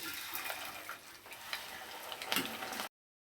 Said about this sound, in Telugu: అదే ఆయిల్లో పెసలు వేయించుకోవాలి